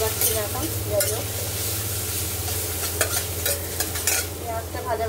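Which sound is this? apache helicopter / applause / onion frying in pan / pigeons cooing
onion frying in pan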